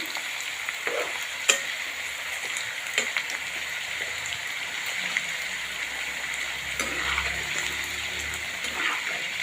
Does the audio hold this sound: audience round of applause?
no